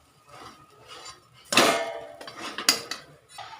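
A crispy snack is flipped in a pan with a utensil, producing sharp metallic scrapes and clanks against the pan in irregular bursts after a quiet start, close by and with no talking.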